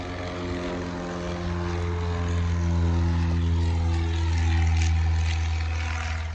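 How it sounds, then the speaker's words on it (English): Propeller airplane taking off at Naples Jet Center, a steady loud droning engine with strong low hum, swelling slightly as it powers up. "We're about to jump on a plane, as one's taking off right now."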